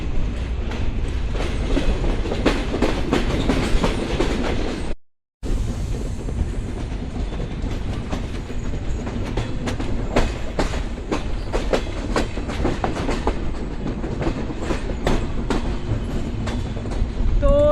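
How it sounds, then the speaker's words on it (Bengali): Passenger train on the Khulna to Dinajpur rail route, a close, continuous rumble with rhythmic clickety-clack of the wheels over the rail joints and a very brief dropout early on. "ঘন্টা জার্নি শেষে আমাদের ট্রেন দিনাজপুরে পৌঁছে গিয়েছে"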